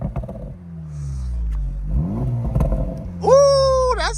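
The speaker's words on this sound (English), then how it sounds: "Go ahead and get up a nice rev for me real quick" A 2023 Acura Integra Type S with its tri-exhaust idles with a deep rumble and then snaps into a loud, sharp rev that climbs, holds and falls back near the end, with faint background sounds.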